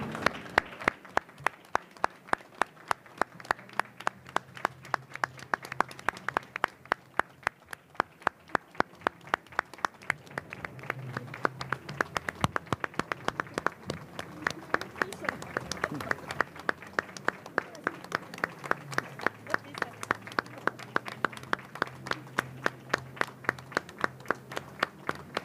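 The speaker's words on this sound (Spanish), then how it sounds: "Les pido por favor un aplauso fuerte para Osiel Baena." An audience at a book presentation on LGBTTTIQ+ political-electoral rights applauds loudly in tribute, a steady dense clapping that holds for the whole stretch with light murmuring underneath.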